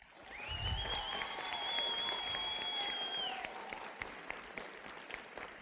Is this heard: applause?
yes